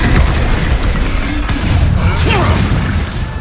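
An Expulso spell explosion in Hogwarts Legacy, a loud booming blast within a dense, continuous roar of spell combat, with no voices over it.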